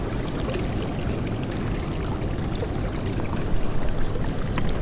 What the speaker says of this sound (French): Ça fait du bruit, la cascade.